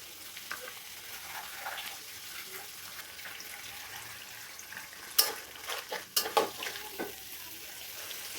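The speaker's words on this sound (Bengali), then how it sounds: "আদা রসুন বাটাটা ভালো করে একটু ভাজা ভাজা করে নেব" Ginger garlic paste fries in a pan with a soft, continuous sizzle, broken by a few clattering scrapes of a spoon stirring near the end.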